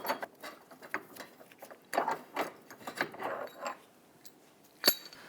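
A bolt is loosened and removed from a rear lower rearward control arm on a 2011-2023 Dodge Charger, giving faint metallic clinks and scrapes of tools and parts, with one sharper clank near the end.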